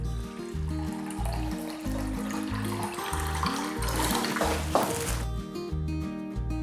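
Tap water runs steadily into a vessel while measuring three cups for homemade rolled oat milk, a continuous close splashing stream under a repeating tonal melody, with no talk.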